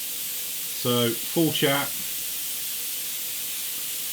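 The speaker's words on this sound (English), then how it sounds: "So I don't have any qualms about spraying this at all." An airbrush sprays thin acrylic paint in a steady, continuous hiss throughout, with someone speaking briefly over it.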